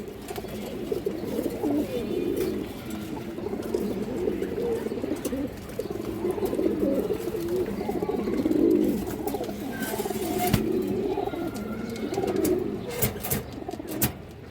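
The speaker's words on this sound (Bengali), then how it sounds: "একটা সবজি মাদি কবুতর" A Sobji breed female pigeon, light-coloured, coos steadily in low murmuring phrases throughout, close by, with faint background noise and no talk.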